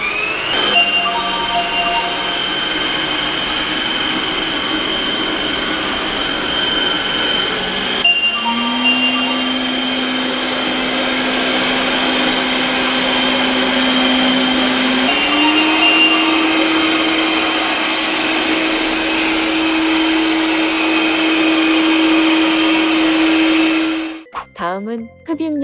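A Twinboth S9 Pro Master robot mop vacuum cleaner runs steadily with a whirring motor hum, stepping up in pitch twice as suction power increases, then cutting off abruptly near the end.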